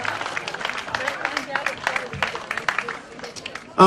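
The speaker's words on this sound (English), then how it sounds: "give them a round of applause" Crowd applause at an outdoor pro-police rally, a scattered mix of clapping hands and cheering over murmuring voices, tapering off before a sudden loud bump at the end.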